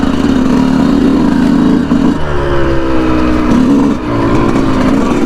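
A Yamaha YZ125 two-stroke dirt bike engine revs loud and close while riding, pitch rising and falling through gear changes with brief dips, no talking.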